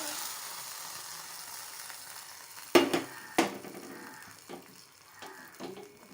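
A soft background sizzle, then a few sharp splashy pours and clinks as hot fried cashews and raisins are tipped into milk payasam, fading to quiet stirring.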